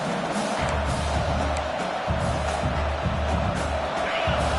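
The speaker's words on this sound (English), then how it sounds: "Listen to this crowd just shaking the girders of this place, trying to help their defense" A large stadium crowd in the College Football 26 video game, Washington vs Oregon, roars steadily, a dense, loud wash of cheering with low rumbling swells, sounding like a broadcast from a packed arena.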